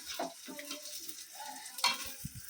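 Eggplant slices frying in a pan at a home kitchen stove, a soft sizzle with stirring and scraping clatter, a sharper utensil knock near the end, no talking.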